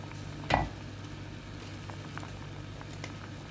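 Homemade tomato sauce simmering in a pan, a steady soft bubbling and sizzling patter heard close, with one brief louder stir or clink near the start.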